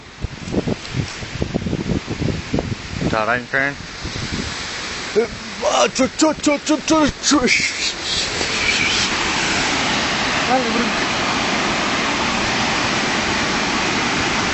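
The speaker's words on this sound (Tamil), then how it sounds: "தண்ணி மேலே போய் தெளிக்கிற மாதிரி இப்படி போய் அப்படியே இப்படி கீழே இறங்கி நல்லா ஏறுது பாருங்க மேலே தண்ணி" Water sprays upward and falls back at a power plant in Ottanchathiram, a broad continuous rushing hiss that grows steady and dominant in the second half, with people talking over it earlier.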